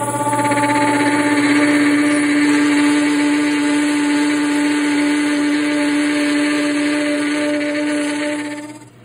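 A metal gear-cutting machine works teeth into a gear blank, a loud continuous whine with strong steady tones that runs unbroken, then tapers off sharply at the very end.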